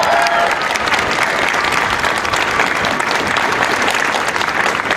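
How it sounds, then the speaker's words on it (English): Loud, dense crowd applause at an outdoor anti-abortion rally in Texas, a thick continuous roar of many hands clapping that holds steady for the whole stretch. "Give them a round of applause."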